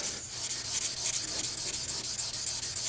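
Aluminum being hand-sanded with 1500 grit sandpaper, a steady, close, continuous rubbing scrape with rhythmic back-and-forth strokes and no talking.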